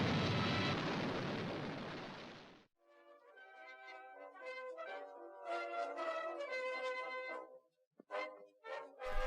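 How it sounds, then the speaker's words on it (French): Battle of Britain Spitfire fighter taking gunfire: a dense, loud burst of blasts for a few seconds cuts off abruptly, followed by ringing, tonal aircraft and engine noise with sharp bangs near the end. "Un Spitfire encaisse des tirs"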